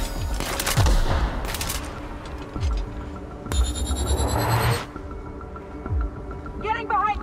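Gunfire in the video game The Outer Worlds: a handful of sharp shots and bursts scattered across the clip, with a long metallic energy-weapon whine in the middle and game effects around it, while a voice talks over it.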